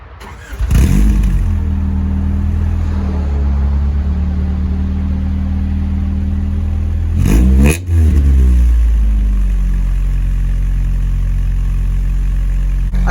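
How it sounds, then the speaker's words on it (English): A Honda car engine is heard up close: it cranks and starts, settles into a steady idle, gets a sharp rev blip near the middle, then drops back to a smooth idle, loud with no talking. "Now let's get to some engine clips."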